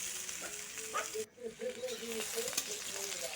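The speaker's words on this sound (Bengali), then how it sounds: "কবিটা আর একটু ভালো করে ভাজা হয়ে যাবে আর আলুগুলোও ভাজা হয়ে যাবে" Kohlrabi and potatoes frying together in a pan, a constant hissing sizzle with brief stirring noises and a short dip, while a person talks over it.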